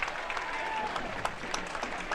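A stadium crowd at a San Diego Loyal SC versus Birmingham Legion FC soccer match gives a sustained ovation to departing substitute Elijah Martin, a dense continuous roar of applause with scattered cheers.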